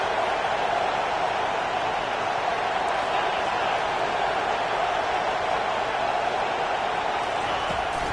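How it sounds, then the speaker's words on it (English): A stadium crowd roaring at an SEC college football game, a dense, sustained wall of cheering noise at steady loudness throughout, distant and unbroken. "It is getting loud as this crowd tries to help its defense."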